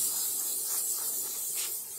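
A Lelit Elizabeth espresso machine's steam wand, fed by a dedicated steam boiler, hisses steadily and fairly close, a bright, airy spray of steam that softens slightly just before stopping.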